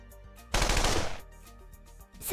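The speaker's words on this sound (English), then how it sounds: "I'll order the airstrike now." A burst of rapid machine gun fire from an airstrike sound effect lasts about half a second, close and loud, then fades, with a sharp noise rising again at the very end.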